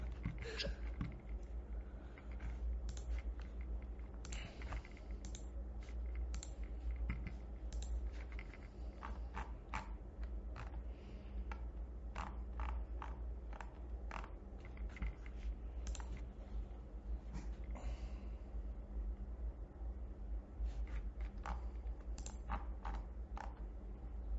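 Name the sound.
computer keyboard typing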